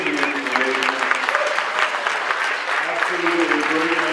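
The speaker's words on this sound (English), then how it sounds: "A round of applause for Richard, please." An audience at a talk on alien life and crystal skulls applauds a speaker, with a steady patter of many hands clapping close by while a voice talks over it.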